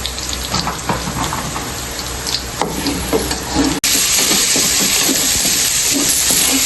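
Steady, loud frying sizzle of potatoes in hot oil, with bubbling crackle and a brief stir or clatter midway before the hiss surges.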